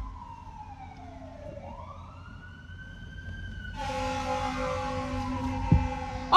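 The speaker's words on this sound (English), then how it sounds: "we got a fire truck ruining my mukbang" Fire truck siren passing outside during an indoor eating session: a wailing tone rises and falls at a distance, then a louder, harsher blaring horn-like siren takes over and holds steady as it passes.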